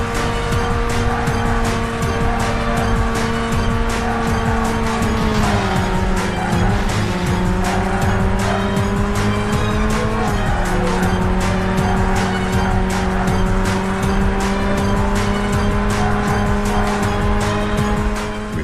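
Racing cars roar continuously through a motorway race in the PS2 game Burnout, with steady engine drone shifting pitch and tire squeals, loud and close with no talk.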